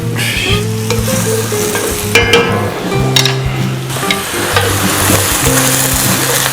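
Whole untrimmed herbs hit a hot pan while making risotto, giving a steady, loud sizzle and crackle with stirring scrapes, close up and continuous, with no talking.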